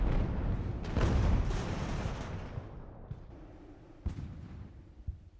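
Artillery fire in the Age of Sail naval battle game Ultimate Admiral during a harbor raid, with a dense rumbling barrage of cannon booms that fades, then a few sharper, isolated distant shots near the end.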